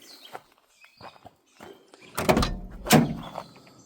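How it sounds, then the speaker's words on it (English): Doors of a 1979 Pontiac Trans Am being opened and shut, with solid thunks around two and three seconds preceded by quieter latch clicks and handling noises, close by with no talk. "Doors actually open and shut really good"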